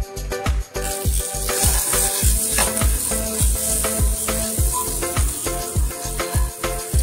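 Boiled eggs fry in a spiced masala of turmeric and salt, giving a steady crackling sizzle that runs throughout beneath loud, rhythmic background music.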